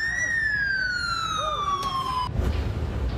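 A fire engine siren wails nearby in Hanoi while responding to a cafe bar fire, a single sustained tone sliding gradually downward before cutting off abruptly, followed by a low thump and background noise.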